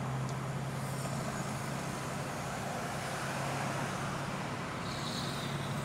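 A 1993 Ford Mustang Cobra with stock suspension driving in third gear: a steady, fairly quiet engine and road rumble heard from inside the car, even and unbroken with no voices.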